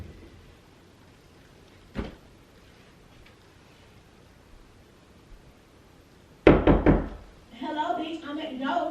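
A door is knocked on with a single soft tap, then after a pause a quick, loud cluster of several hard knocks, followed at once by people talking.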